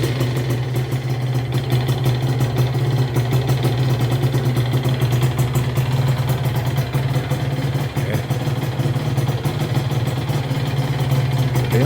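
A Honda NSR 125 motorcycle engine starts and settles into an idle, a steady, close, mid-pitched drone holding evenly throughout with no talk.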